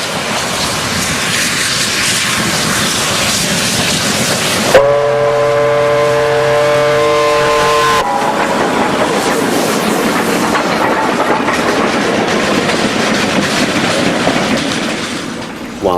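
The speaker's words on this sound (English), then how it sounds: "At the eastern end of Shangdian Tunnel, another train begins coasting down to Rishui after passing the summit of the climb in the middle of the tunnel." A Chinese QJ steam locomotive coasts downhill from a tunnel summit toward Rishui. A loud, steady rolling rumble of wheels and wagons runs throughout, with a sustained multi-tone whistle sounding for a few seconds partway through.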